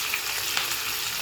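Chopped onions fry in a pan for chilli chicken, a brief, close, steady hiss of sizzling oil with no voices.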